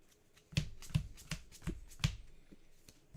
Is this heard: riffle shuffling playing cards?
yes